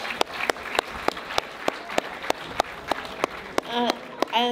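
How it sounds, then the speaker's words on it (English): A small audience gives a thin, scattered round of applause, individual sharp claps spaced out at a steady pace, with a voice briefly speaking near the end. "Can we give them another round of applause?"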